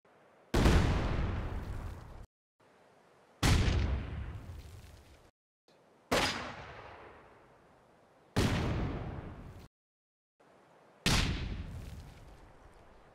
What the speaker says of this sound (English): We had the bundle grenade, rifleman grenade, grenadier rifle nade, and stun grenade.